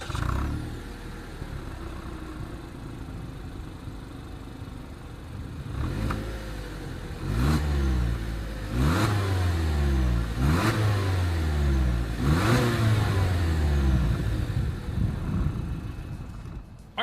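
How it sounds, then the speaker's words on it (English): Exhaust of a 2020 Toyota Yaris hatchback with a chrome exhaust tip, settling at a steady idle and then blipped through four sharp revs that rise and fall in quick succession, close and loud, with no talking. "As always, here is that exhaust clip"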